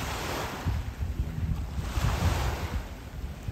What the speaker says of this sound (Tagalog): Medyo pinupush na yung tubig papuntang shoreline.